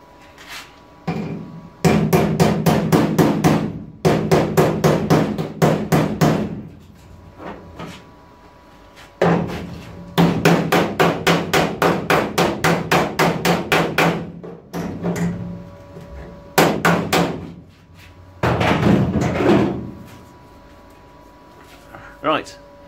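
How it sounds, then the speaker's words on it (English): Repeated rapid hammer blows ring out on car body metal of a Mk V Ford Cortina under restoration, in several bursts, loud and close, separated by short pauses and brief quiet stretches. "Hammer it."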